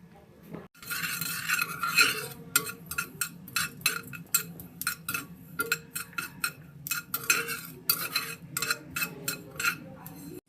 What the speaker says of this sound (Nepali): अब चाहिँ म तोरी भुट्दैछु है